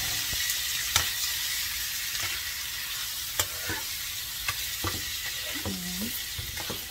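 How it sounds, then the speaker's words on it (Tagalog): Pork sautés in a hot pan with a continuous bright sizzle and occasional scraping stirs of a utensil. It sounds close and steady, with no talking. "ilagay na natin yung pork"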